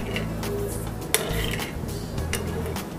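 Egg and sugar being mixed in a bowl set over warm water for homemade whipping cream, with steady scraping and clinking of utensil against the bowl and one sharper knock midway, close and moderately loud with no talk.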